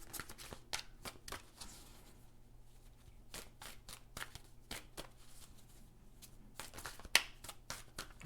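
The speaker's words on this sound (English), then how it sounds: "So you don't have to sit here while I shuffle all the cards." Quiet, crisp flicks and riffles of tarot cards being shuffled, coming in quick irregular bursts with short pauses, close by.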